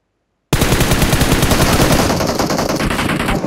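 Dense, loud burst of rapid automatic gunfire from a shooter video game, starting abruptly and rattling on continuously without pause for about three seconds, with no voices over it.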